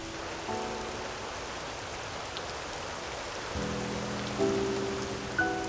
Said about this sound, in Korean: 우리는 마치 한 곡의 클래식 음악을 듣는 것처럼 가만히 빗소리를 감상하기도 하죠.